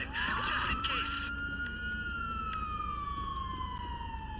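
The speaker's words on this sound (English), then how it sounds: "those sirens are everywhere" Police sirens in GTA 5 Online wail with a long rising and slowly falling sweep, loud and continuous over a busy game soundscape.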